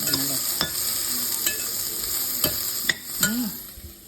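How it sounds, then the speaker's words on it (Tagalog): Ingredients for chicken tinola sautéing in a pan, a loud steady sizzle broken by sharp spatula scrapes and knocks at irregular intervals, close up and with no voices. "Gisa-gisa natin yan."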